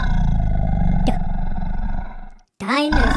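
A dinosaur roar sound effect bursts in near the end, loud, close and rough, with a wavering pitch, after a stretch of voice and a brief moment of silence.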